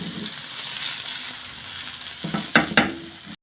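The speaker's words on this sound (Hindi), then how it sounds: "सारी टिक्कियों को हमने अब 1 से 2 मिनट हम इस साइड से इसको फ्राई करेंगे" Potato tikki cutlets frying in oil in a pan: a steady soft sizzle throughout, with a few louder crackles and pops near the end before it cuts off.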